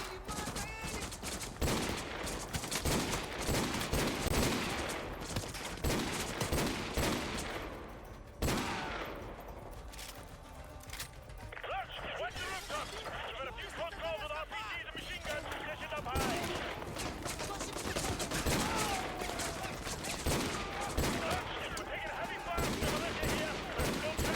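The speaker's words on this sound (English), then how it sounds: "Akimbo Deagles is so overkill." Akimbo Desert Eagle pistols fire in Modern Warfare 2, loud, rapid volleys of game gunfire packed closely with explosions and battle noise, pausing briefly near the middle before resuming under occasional voices.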